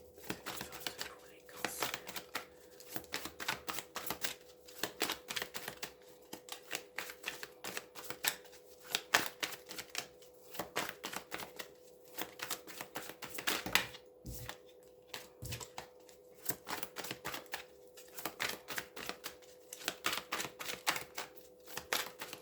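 Tarot cards riffled and shuffled in rapid, dense bursts of crisp flicking close by, followed by cards being set down, with soft speech running underneath.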